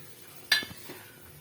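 A spoon stirs a sweet mixture in a pan on a switched-off stove while Krishna Jayanthi sweets are made, giving one sharp metallic clink followed by a few soft scrapes in an otherwise quiet kitchen.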